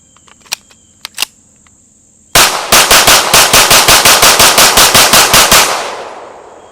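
A Springfield Prodigy 1911 DS 9mm pistol fires a fast string of about fifteen loud, close, evenly spaced shots. A few faint clicks of gun handling come first, and the echo dies away at the end.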